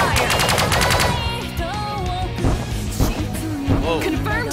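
Starship weapons in the Sunrider space combat game fire in a rapid burst of repeated shots at the start, then give way to warbling electronic tones and scattered impacts with voices talking over them.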